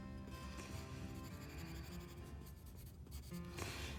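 A pencil presses hard across paper to outline a drawing, producing a continuous close scratching and scraping with short pauses and no speech.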